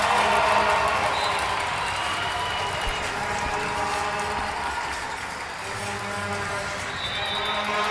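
A Utica City FC crowd inside an indoor soccer arena cheers and claps throughout the final minutes of a match against Chihuahua Savage, a broad, steady roar with faint play sounds underneath.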